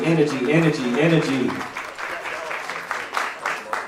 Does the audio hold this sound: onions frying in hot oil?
no